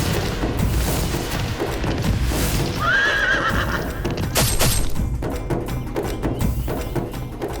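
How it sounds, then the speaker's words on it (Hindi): In a mythological drama scene, a horse whinnies loudly once amid a fast, heavy galloping clatter and booming dramatic effects, all close and intense. "इतना सुंदर अश्व, इसकी त्वरित गति तो दर्शनीय है।"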